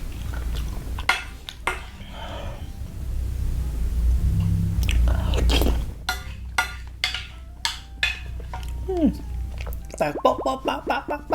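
Salmon sashimi being chewed close to the mouth, wet soft bites and mastication in short bursts with quiet pauses, plus a few light clinks of dishes or utensils.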